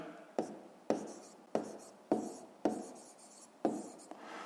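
A pen writing on paper during a fifth-grade maths lesson, six or so crisp taps at a steady pace, each trailing into short scratchy strokes, close and quiet with no talk.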